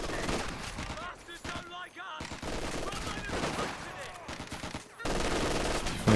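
Rapid bursts of gunfire from a Company of Heroes 2 battle against an LMG Grenadier squad, dense overlapping rattling volleys with short lulls, played at low level throughout.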